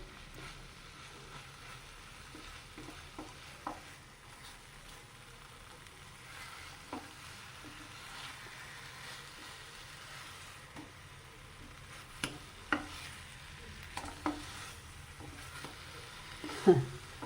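Grilled chicken sizzling on a tawa as it is flipped: a soft continuous frying hiss broken by several sharp clicks and scrapes from turning the pieces, with no talking.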